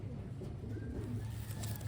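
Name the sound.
Taiwanese Wantai pigeons cooing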